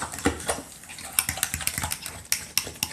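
A utensil mixes deviled egg filling in a bowl, giving a string of close, irregular scraping clicks and taps against the bowl's side, with no talk.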